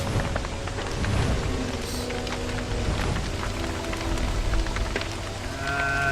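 Steady rain hisses continuously in the survival video game Don't Starve: Reign of Giants, a dense, even wash of falling drops with no talk over it.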